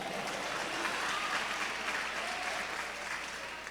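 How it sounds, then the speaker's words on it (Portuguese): A church congregation applauds continuously, a broad even wash of clapping that holds steady and eases slightly toward the end, with no talk over it. "pode aplaudir, pode glorificar."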